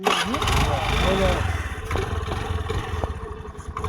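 A motorcycle engine cranks and sputters into a loud idle, then settles into uneven rattling putters; voices can be heard around it.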